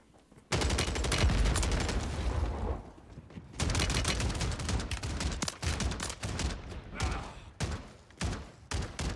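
Riveter shotgun firing in Call of Duty Warzone on Rebirth Island, rapid loud bursts of blasts in quick succession with brief pauses between volleys.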